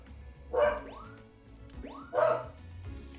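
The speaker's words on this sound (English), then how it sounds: "Can you guys hear the dog right now?" Two separate barks from a pet dog named Cooper, about a second and a half apart, close and fairly loud in a quiet room with low background hum.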